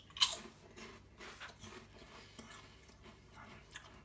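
Crunchy salted caramel Tongari Corn crisps being chewed up close, a run of quiet crisp crunches and bites with a sharp crack near the start.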